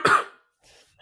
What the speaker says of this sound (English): Edit these coughs out.